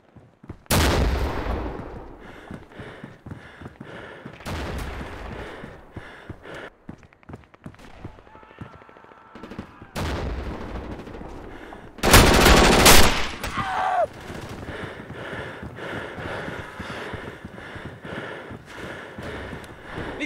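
Bursts of gunfire ring out in the World War II Eastern Front shooter Classic Ostfront, sharp loud volleys separated by quieter stretches, with a particularly intense cluster of shots midway, over a constant ambient hum.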